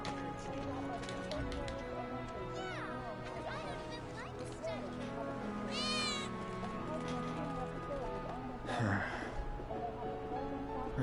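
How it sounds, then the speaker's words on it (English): A cat meows in the Final Fantasy VII Remake video game. A couple of short, rising meows come mid-clip and near the end, mixed with game sound effects and voices. "I think one of Betty's cats might be nearby."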